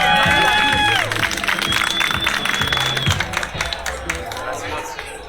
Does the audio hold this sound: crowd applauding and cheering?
yes